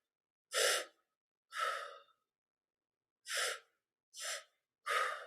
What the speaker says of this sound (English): you're going to breathe into the stomach and hips, and then into the chest, and then exhale.